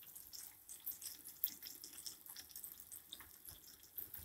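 Water poured into a pan for khaman dhokla tempering, a soft, steady trickling splash heard close and quiet, with no talking.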